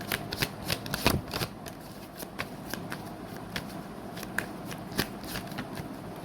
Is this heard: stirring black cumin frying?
no